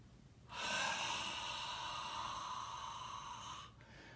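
A single long, audible inhale during a squat-based exercise routine, rising suddenly and holding for about three seconds before cutting off, close and fairly quiet.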